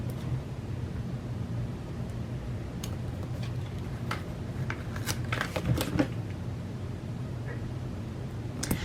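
Foil crinkles and rustles as it is handled while assembling a planner decoration, with scattered sharp crackles and soft taps, close by and fairly quiet.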